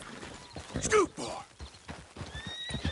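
A horse in the video game Red Dead Redemption 2 gives a sharp, close whinny over the clip-clop of its hooves, with game speech mixed in around it.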